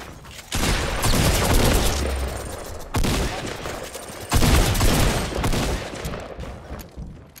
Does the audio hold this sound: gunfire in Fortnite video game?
yes